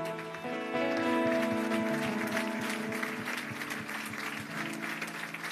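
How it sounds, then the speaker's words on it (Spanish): Church congregation clapping in a sustained round of applause over held musical tones, moderately loud and continuous throughout. "Le damos un aplauso al Señor"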